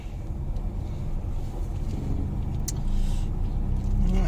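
A car drives along the port road at Puerto de Mazarrón, its engine a steady low rumble with wind noise, growing slightly louder toward the end.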